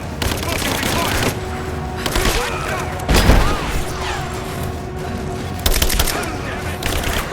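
Sustained gunfire in a Rise of the Tomb Raider firefight, with rapid automatic bursts and heavy booming shots repeating over about seven seconds, loud and close, with shouted combat voices mixed in.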